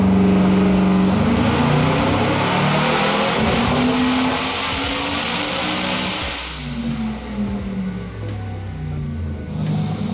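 A 1716-horsepower Coyote-powered 4WD Ford F-150 screams on a dyno, revving hard toward 8,250 rpm with a rising whine, then dropping off, loud and close with no talk.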